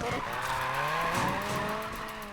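Tires squeal in a long sustained skid as a Mini Countryman drifts in the racing game Need for Speed Payback, the engine droning loudly underneath throughout.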